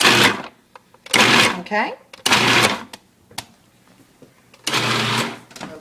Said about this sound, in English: just pulse it until it kind of resembles a small, fine chop